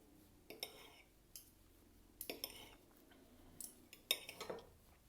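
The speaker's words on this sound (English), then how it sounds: "take your fork and a knife, and we'll just cut into nice pieces" Fork and knife cutting boiled meat into pieces for a Croatian lešo meso soup, heard as a few soft metallic clinks and scrapes against a plate in short bursts, close and fairly quiet, with no talking.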